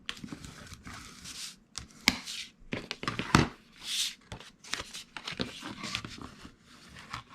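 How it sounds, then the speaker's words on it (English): A big spatula folds and creases paper cards, giving a run of close, uneven scraping and rustling strokes with short pauses between them. "I'm going to take my big old spatula and just get these cards folded"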